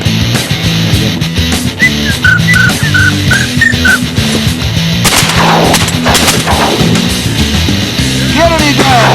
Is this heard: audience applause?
no